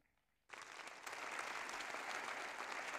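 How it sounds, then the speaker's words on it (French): An inauguration audience bursts into applause for pharmacists, the clapping starting abruptly after a brief quiet moment, then building into a broad, steady roar that continues to the end. "je pense qu'il est aussi logique et juste d'applaudir les pharmaciens."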